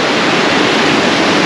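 Swift river water rushes loudly over rocks on a jungle hiking trail, a dense, unbroken roar heard up close with nothing else over it.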